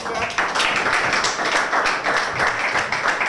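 Applause and clapping from an audience at a rap battle stage event, a dense, steady wash of claps running loud and continuous through the whole stretch.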